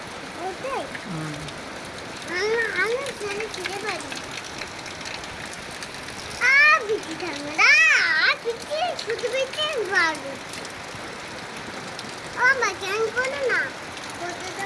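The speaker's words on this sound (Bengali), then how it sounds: "শুধু বৃষ্টি হচ্ছে।" Heavy rain pours down on a wet afternoon, a steady dense hiss lasting the whole time while children's voices talk and call over it.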